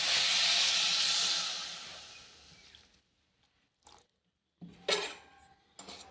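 Water poured over jaggery in a pan, a steady rushing hiss for about two seconds that tapers off, followed by a few small clinks and a sloshing splash of the pan.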